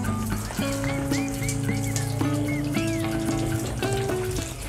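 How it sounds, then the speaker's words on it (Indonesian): Water from an ordinary tap splashes steadily onto a screen during rinsing, a continuous close patter of droplets and running water. "Kita siram dulu dengan keran biasa."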